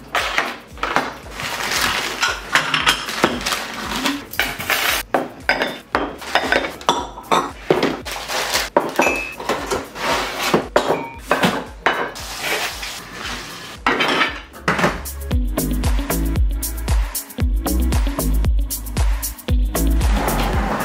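Dishes, pots and cutlery being unpacked from moving boxes in a kitchen, a busy run of sharp clinks, clatters and knocks, close and loud, with a few short pauses and heavier thuds near the end.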